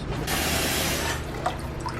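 Water pours steadily into a cooking pot for boiling frozen mixed vegetables, a loud continuous splashing rush that lasts throughout, with a few small drips near the end and no talking.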